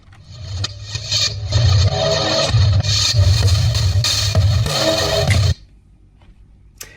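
A drum fill from a self-produced electronic EP track, looped in reverse, plays loudly as a dense, pulsing wash with heavy low-end throbs for about five and a half seconds, then cuts off abruptly to near silence.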